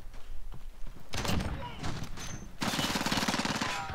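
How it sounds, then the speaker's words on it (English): Bursts of automatic gunfire from another player in Modern Warfare 2, a distant rattle at first that swells into a loud, sustained volley in the last second and a half, with no talk over it. "I don't know what that guy's shooting at"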